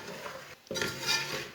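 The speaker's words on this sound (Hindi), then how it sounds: "बेसन को हमने भूनना है।" Gram flour (besan) roasting in a pan with spices for village-style kadhi, a short scrape and stir against the pan with faint sizzling, a brief pause, then more stirring.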